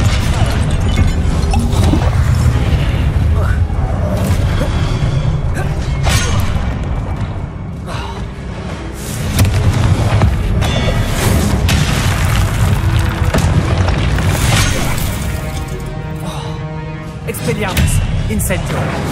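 Repeated blasts and crashes of the Confringo fire spell in the Hogwarts Legacy video game, loud booms and smashing impacts over a dense, continuous game soundtrack, with a voice talking throughout.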